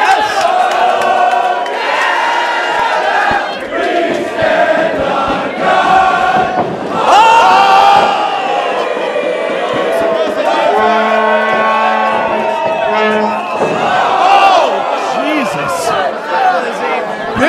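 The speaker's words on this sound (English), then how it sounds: "Bailey's singing along with the crowd" A packed wrestling crowd sings and chants loudly and continuously, with rhythmic sustained choruses, cheers and whoops swelling across the hall.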